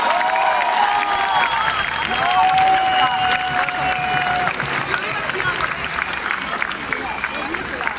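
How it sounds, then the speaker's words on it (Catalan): An audience at a rally breaks into applause for the speakers, loud sustained clapping with cheering, and a voice talks over the crowd through much of it. "Un fort aplaudiment per tots ells."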